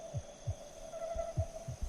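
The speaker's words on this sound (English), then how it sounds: "Heartbeats." Heartbeats, a slow rhythmic pair of low thumps repeating about every second, soft and close, over a steady electrical hum with no voices.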